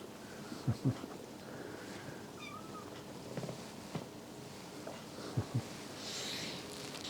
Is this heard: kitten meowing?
yes